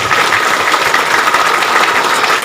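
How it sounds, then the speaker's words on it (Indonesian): Audience at an Indonesian political gathering in Cilacap applauds steadily, a dense, even wash of clapping sustained throughout with no pauses. "Tepuk tangan untuk semuanya."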